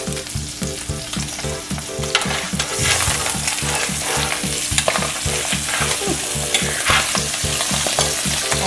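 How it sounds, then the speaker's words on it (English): Salmon fillets sizzling loudly in a hot pan while being basted, a dense continuous crackle and spatter with rhythmic scraping strokes of the spoon, no talking. "I'm going to start basting these."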